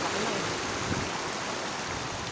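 Sea waves wash and rush at the shore near Mariveles, Bataan, a steady, loud hiss of surf filling the whole stretch without any voices.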